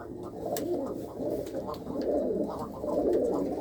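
Pigeons of a Shah breed mix, some perched up high, coo in a soft continuous chorus of low, rolling calls, close and steady with no talk.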